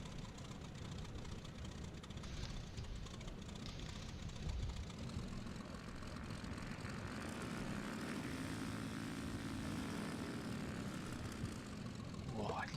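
A propeller airplane engine in the X-Plane 11 flight simulator drones steadily and fairly quietly throughout, with some talk over it.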